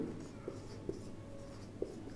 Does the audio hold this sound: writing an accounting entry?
yes